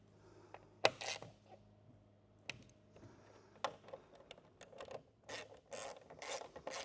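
A hand ratchet snugs up a bolt on the dashboard of a 1974 Camaro during interior restoration, giving quiet, irregular clicking bursts with short pauses between them.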